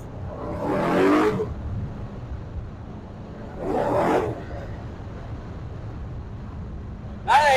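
A flood-damaged 1967 Corvette with an LS3 engine drives on the road with its clutch slipping, a low steady engine drone rising in two loud surges, then a sharp burst at the very end.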